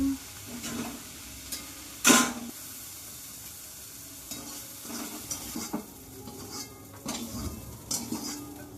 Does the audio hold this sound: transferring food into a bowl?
yes